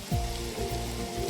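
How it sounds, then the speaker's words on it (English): Rain falling in Minecraft, a steady close wash of patter and hiss over a low rumbling storm bed, brief and unbroken. "Oh, why does it have to rain right now?"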